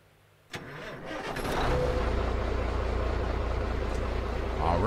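A truck engine in American Truck Simulator cranks and fires up, then settles into a loud, steady rumble that holds to the end.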